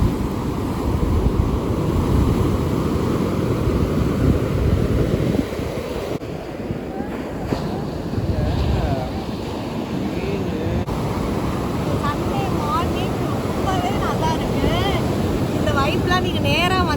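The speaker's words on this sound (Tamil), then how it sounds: "அந்த கடல் சத்தம்" Sea waves wash continuously onto the beach at Kovalam, with a steady roar of surf under heavy wind buffeting the microphone, while people talk faintly in the background.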